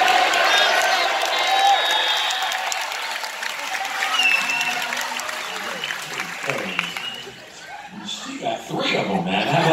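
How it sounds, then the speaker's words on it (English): Audience applause for a song, sustained clapping and some crowd noise at a shipboard game show on Liberty of the Seas, thinning briefly before picking up again. "Clap for the song."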